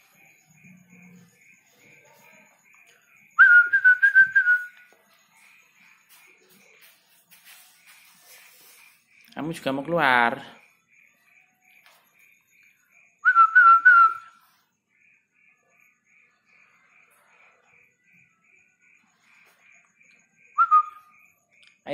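A tame two-month-old pet falcon whistles in short clear bursts, three tonal calls spaced several seconds apart, close and loud, with a rattle and a brief spoken question between them.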